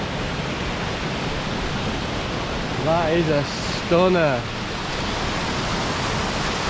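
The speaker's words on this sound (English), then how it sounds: "The waterfalls are really on form." Steady broadband rushing of mountain waterfalls swollen by heavy rain fills the whole clip, with a brief burst of speech over it partway through.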